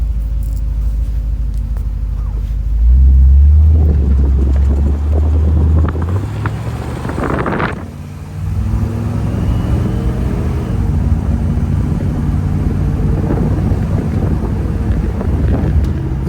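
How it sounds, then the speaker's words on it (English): A 1957 Chevrolet Bel Air convertible with automatic transmission pulls away and builds speed, its engine rumbling steadily under heavy wind buffeting, with a surge in loudness partway through as it accelerates. "We'll get around the corner here, get it up to speed."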